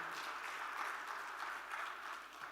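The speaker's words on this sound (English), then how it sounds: "I request all of you to give Dr. Yeang a resounding applause" A crowd at an architecture festival keynote in Rajasthan applauds steadily, a dense wash of many hands clapping at a moderate, fairly distant level with no voices standing out.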